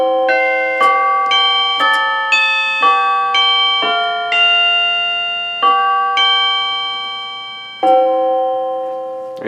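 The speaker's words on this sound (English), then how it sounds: "I could add like a tubular bell or something for just little parts" A tubular bell sound played on a keyboard strikes a slow melody of about a dozen ringing notes, each decaying, loud and alone.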